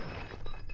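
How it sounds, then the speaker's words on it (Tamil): A drinking glass shatters in a Tamil movie scene, a short, loud burst of breaking and crashing heard close up, with no talk. "ஐயோ கிளாஸ் உடைஞ்சிடுச்சு."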